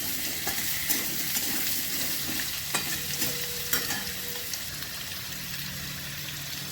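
Potatoes and onion for aloo posto sizzle steadily in a pan on the stove, with a few scraping stirs and clinks over the constant frying hiss.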